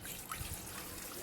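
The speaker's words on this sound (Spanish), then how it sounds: "Acá voy a poner mi agua" Water poured into a pot at home to boil for coffee, a faint, brief soft trickle and splash heard alone and quietly.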